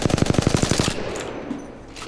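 An R-301 rifle in Apex Legends fires one rapid burst of about ten evenly spaced, punchy shots. The burst cuts off sharply, leaving a quiet tail of game ambience.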